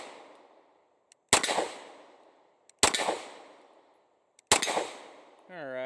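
Beretta APX A1 pistol firing three sharp, loud shots at even spacing, each with a short ringing tail outdoors, the gaps nearly silent and a faint voice-like tone at the very end.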